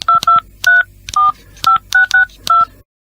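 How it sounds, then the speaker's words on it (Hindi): A telephone keypad is pressed about ten times to dial a number, each press giving a clear, loud two-tone beep in an uneven rhythm, then silence. "पहले नंबर के बटन दबाओ, कोई ना कोई फोन उठाएगा"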